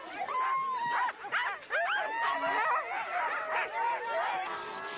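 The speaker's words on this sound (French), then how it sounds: "Les chiens hurlent en meute, pris de frénésie incorrigible jusqu'à cet instant qui les libère, celui du départ" A pack of husky sled dogs howls and yips in a frenzied, continuous chorus before the start of a snow race, loud and close with overlapping cries throughout.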